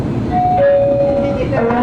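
LRT Line 2 train arriving at a station on the Antipolo–Recto line, with a tonal whine and rumble and a chime-like signal, while voices speak close by.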